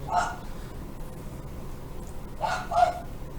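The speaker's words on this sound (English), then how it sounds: "And my dog's continuously barking is going to be my background sound." A dog barks in a few short bursts, one near the start and a quick double bark near the end, loud against a steady low background hum with no speech.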